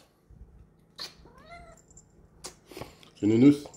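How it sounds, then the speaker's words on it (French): A domestic cat meows several times indoors, rising and falling calls close by, ending with a louder, harsher meow; a person talks quietly nearby. "Vous voyez ce qu'on entend miauler."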